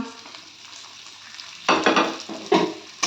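Potatoes frying in oil with spices, a low sizzle that swells sharply as they are stirred, with a few bursts of scraping in the pan.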